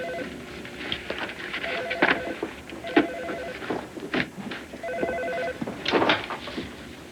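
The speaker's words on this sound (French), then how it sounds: "Non, Alex, tu prends le téléphone." A telephone rings in an office-like room on a 1990s TV set, its bell trilling in repeated bursts at medium distance amid faint background clatter.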